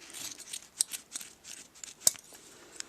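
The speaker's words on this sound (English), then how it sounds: "After the hole is cut, just cut all the way down to the seam." Scissors snip through denim while cutting a hole in a pair of jeans, a series of quiet, close, crisp cuts spaced irregularly with one sharper snip near the end.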